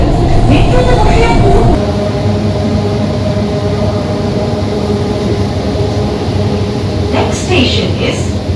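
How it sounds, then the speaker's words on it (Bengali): Kolkata Metro train running, a loud continuous rumble and rail hum heard from inside the carriage, with a brief announcement-like voice and a few high squeals near the end. "মেট্রোতে বসে"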